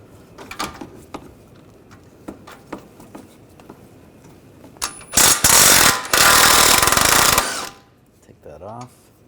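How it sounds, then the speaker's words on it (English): A 22mm socket on an impact tool loosens the front axle nut on a 2009-2010 BMW 535i xDrive, giving a loud burst of rapid hammering rattle of about two seconds after scattered tool clinks and handling noises. "I'm going to take this nut off."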